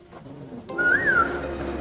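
A woman imitates a bird call with her voice, giving one rising and falling whistle-like coo that stands alone and clear against quiet room tone.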